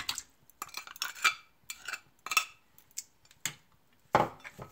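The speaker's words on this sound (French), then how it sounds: "Je mets les 30 centilitres d'eau dans une casserole." Water, sugar and butter go into a saucepan amid a run of light, irregular clinks and knocks of the pan and utensils, quiet and close, with no talking.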